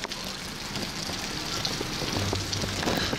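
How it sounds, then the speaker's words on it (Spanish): Steady rain pours down outdoors during a stroll along the Pilcomayo, a dense continuous patter of drops striking surfaces, fairly close and unbroken, with no voices over it. "Ah, la lluvia nos atrapó acá."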